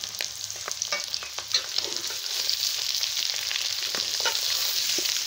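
Baby potato masala fries in a pan with a continuous bright sizzle as spices are stirred in, and scattered clicks and scrapes of stirring sound close by.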